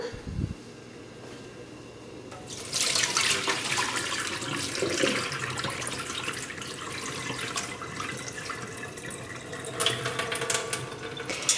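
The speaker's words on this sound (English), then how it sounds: "What I'm going to do is pour off the soaking water." Soaking water poured off a pot of soaked dried black beans in a kitchen, a steady broad splashing gush starting after a couple of seconds and running continuously, fairly close, with no talk.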